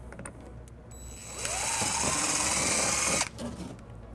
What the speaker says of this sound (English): First we'll line it up and then we'll drill our first hole.